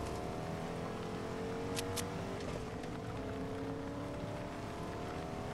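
A truck engine in a video game running with a steady droning hum and faint shifting tones, moderately loud and constant, with no talk.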